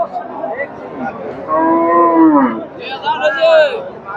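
A Sahiwal cow moos loudly and close by at a cattle market in Chandaikona, a long drawn-out low call followed by a second shorter moo, with faint voices around.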